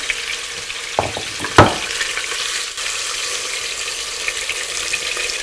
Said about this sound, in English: I'm using this deep pot because I want to fry the fish